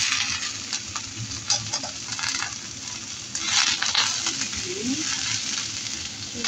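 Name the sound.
stir-frying broccoli in a pan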